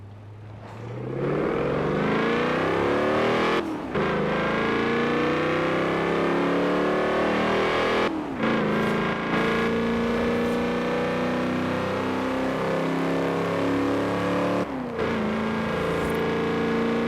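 A Pontiac in Forza Horizon 4 revs hard and repeatedly, its engine note climbing through sustained loud pulls, with brief dips between gear changes and no talk.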